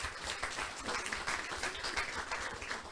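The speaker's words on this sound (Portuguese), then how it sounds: "Uma salva de palmas a vocês já agora" A comedy-show audience bursts into steady, full applause, a dense wash of many hands clapping continuously at moderate distance.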